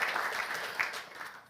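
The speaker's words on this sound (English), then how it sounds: "I thought that would get a cheap round of applause." Brief round of audience applause at a conference hall, a soft scattering of claps with a faint voice over it, fading toward the end.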